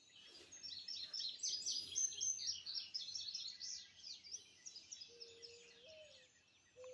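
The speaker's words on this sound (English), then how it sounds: "All the birds are waking up pre-dawn, welcoming each other with their sounds" A pre-dawn chorus of outdoor birds, dense high chirps and twittering calls overlapping continuously at moderate distance, with a lower whistled note near the end, otherwise quiet.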